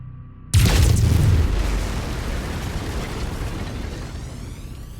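A mech in MechWarrior 5: Mercenaries firing its lasers, a sudden loud burst that erupts after a short quiet lead-in and fades into a long rumbling decay.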